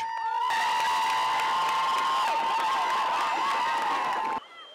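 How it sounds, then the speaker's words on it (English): Crowd of English fans at a pony four-in-hand carriage driving championship cheering, clapping and whistling loudly and continuously, with sharp whistles cutting through, before the noise drops off abruptly near the end. "The English cheering fans support their drivers in the most brilliant way, with clapping and whistling."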